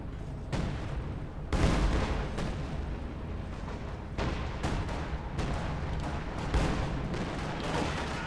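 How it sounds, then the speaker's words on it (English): Dense, continuous rumble of artillery fire and explosions in a Company of Heroes 2 2v2 battle, with heavy bursts swelling around the second mark and recurring booms layered over a steady roar, no voices. "Dilophosaurus getting ready for one hell of a barrage there."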